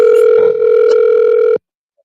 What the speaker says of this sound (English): We got a call coming in.